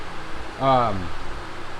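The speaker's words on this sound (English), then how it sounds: "Sorry about the fan noise." Steady broadband whoosh of a running electric fan fills the background, with a brief voiced sound rising over it in the middle.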